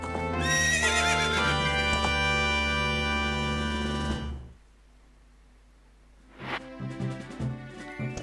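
Epona, the horse in Zelda: Ocarina of Time, lets out a loud, drawn-out neigh, then falls silent before hooves clip-clop in a quick galloping rhythm.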